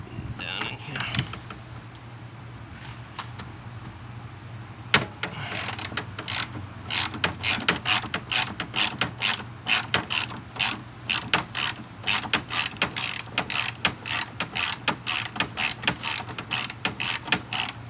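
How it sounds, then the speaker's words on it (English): Ratchet clicking as it turns a headlight bolt through doubled-up extensions on a Toyota Avalon, close and steady, with repeated rapid bursts of clicks that grow more regular over the second half. "Let's double up on our extensions here to get this bolt down in the bottom."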